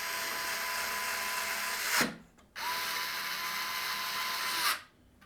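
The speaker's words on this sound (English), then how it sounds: "we'll secure the drive to the bracket with 2 of the screws" A small electric screwdriver whirs in two steady bursts, driving screws that fix a 2.5-inch SSD to a drive bracket during a PC build, each run ending abruptly, close and alone without talk.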